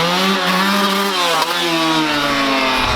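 A Yamaha YZ125 two-stroke dirt bike engine revs loud and near, a raspy buzzing drone whose pitch sags and climbs again with the throttle, with a brief stutter midway.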